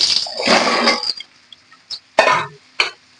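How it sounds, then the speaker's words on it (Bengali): Diced bottle gourd goes into a cooking pan in a few loud, close bursts of tumbling, sizzling pieces, followed by smaller clatters and taps. No one talks. "ডুমু ডুমু করে লাউ কেটে রেখেছি দিয়ে দিচ্ছি লাউ"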